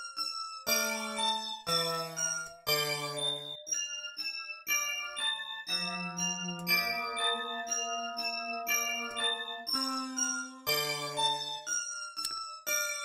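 Bright synthesizer bell patch from the Helium Quad rack extension, a sequence of ringing struck-bell tones with rich overtones, played as clear notes and chords in a steady pattern, loud and alone.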